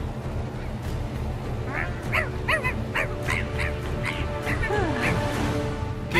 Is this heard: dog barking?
yes